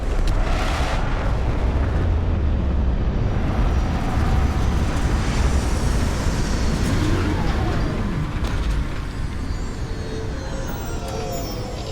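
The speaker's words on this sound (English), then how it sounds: "Landing struts primed. Retros firing." Spaceship retro rockets fire during a landing in the video game Starfield, producing a continuous, loud, deep rumbling roar with a broad hissing wash that stays steady throughout.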